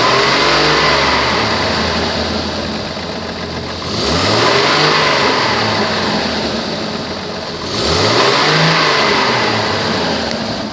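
A 2002 Chevrolet Trailblazer with about 197,000 miles and a leaking exhaust runs alone at close range, its engine rumbling steadily and revving up twice in broad swells before settling back.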